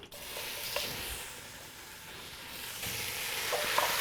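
Pieces of pork sizzle and hiss steadily in hot schmaltz inside a heavy Dutch pot over an open hearth, with a continuous close frying crackle and a few soft stirring clicks.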